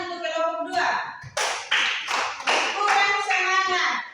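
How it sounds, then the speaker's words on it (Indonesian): Classroom applause for a student group, several hands clapping in uneven bursts close by, with children's voices talking over and between the claps. "Tepuk tangan untuk kelompok 2."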